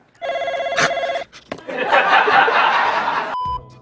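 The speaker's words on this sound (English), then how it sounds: "like this one where Siegel picks up the phone before it even starts ringing" A phone gives one short electronic ring, followed by a burst of studio audience laughter and a brief tone at the end.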